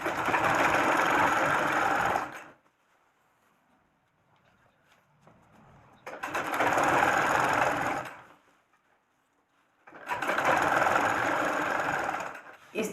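A sewing machine stitches gathered pajama fabric in three steady bursts of a couple of seconds each, separated by quiet pauses.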